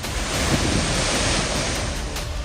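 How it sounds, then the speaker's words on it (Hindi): Storm-driven high waves surge on the sea at Diu, a dense continuous roar of crashing surf mixed with heavy wind buffeting the microphone, loud and unbroken. "तूफान की वजह से दीप के समुद्र में ऊंची ऊंची लहरें उठती दिखी"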